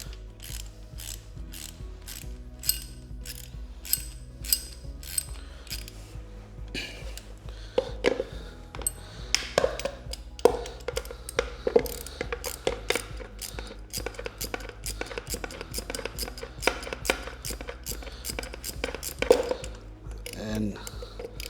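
Wrench ratcheting as it loosens the timing chain tensioner on a BMW R1250R motorcycle engine, with a steady run of close, crisp mechanical clicks over a constant low hum, with occasional louder metallic knocks.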